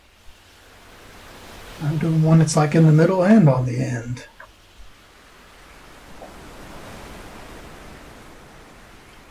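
Synthesized ocean wave sound effect played on a keyboard, soft broadband surf swells rising and falling, at first masked by a person talking and then heard alone as a gentle whooshing wash.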